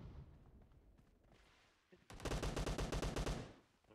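A rapid burst of automatic gunfire in PUBG Mobile rattles out loud and close, following a quieter stretch of muffled game sounds.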